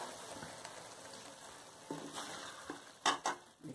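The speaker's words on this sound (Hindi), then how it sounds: "अब ये डाल के इसको ज़रा सा मिक्स करेंगे और 1 मिनट के लिए इसकी भुनाई करके इसको डिश आउट करेंगे" Achari aloo baingan, potatoes and eggplant, being stirred and roasted in a pan, with a low steady sizzle broken by a few scraping stirs and louder clatters near the end.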